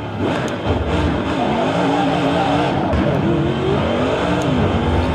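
Corvette Daytona Prototype race car in Assetto Corsa at Mugello, engine revving hard through rising and falling gear sweeps with crackles and tire squeal, loud and continuous with no talk.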